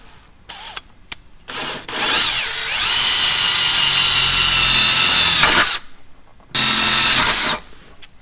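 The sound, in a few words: power drill drilling pilot holes for a dual battery install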